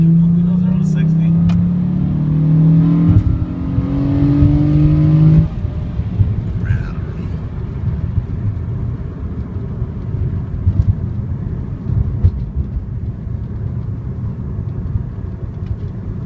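A 2007 Honda Accord V6, just given fresh transmission fluid, pulls away with a loud rising engine whine and climbing revs for several seconds, then settles into a quieter steady cruising rumble with road noise.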